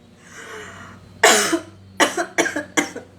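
A burst of harsh coughing, one long cough followed by a quick series of shorter coughs, close and loud over a quiet low hum.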